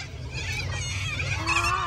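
Birds call repeatedly in a sunny outdoor spot in Fremantle, Perth, honking, goose-like cries rising over a steady low rumble of background noise, fairly close and continuous for the short stretch.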